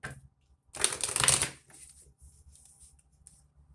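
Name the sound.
shuffling tarot cards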